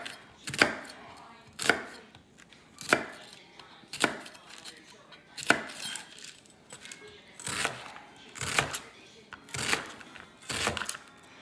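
Knife chopping through a spicy onion on a cutting board, about a dozen crisp, evenly spaced strokes close by, with a slightly quickening rhythm and quiet pauses between cuts.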